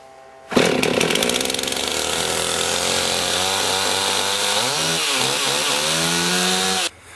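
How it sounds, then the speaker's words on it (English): A chainsaw idles and revs steadily after a pull start with the choke pushed in, its loud two-stroke engine droning close by for several seconds with small pitch dips before cutting off abruptly. "Now with a properly running chainsaw, this approach should work."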